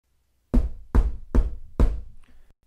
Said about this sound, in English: The two friends knocked on the door and waited.